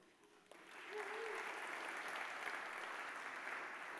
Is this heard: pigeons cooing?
no